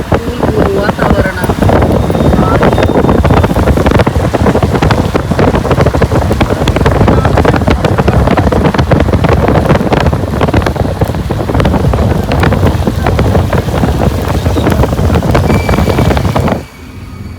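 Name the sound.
cool wind blowing outdoors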